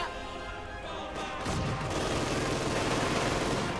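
Machine-gun fire and other battle sounds crackle in the WWII strategy game Company of Heroes 2, with scattered bursts that thicken into a dense, sustained fusillade partway through.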